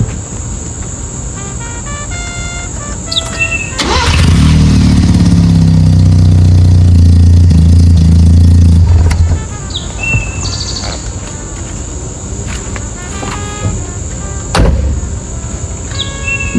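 A 1983 Mazda RX-7 rotary engine with a fresh battery cranks and catches, running with a loud, steady rasp for about five seconds before cutting off, while birds chirp and tweet throughout the quiet outdoor surroundings.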